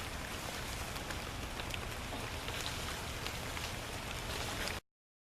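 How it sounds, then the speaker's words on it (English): Rain pours down outside over a garden, a dense, even hiss of drops that stays constant and fairly close, then cuts off abruptly at the end. "Nice and rainy out."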